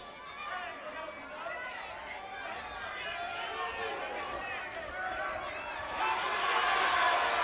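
Spectators at a 1983 Mid South Wrestling match between two super heavyweights keep up a continuous babble of shouts and hollers. The noise swells louder toward the end, and a commentator talks over it.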